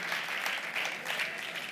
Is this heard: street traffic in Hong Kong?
no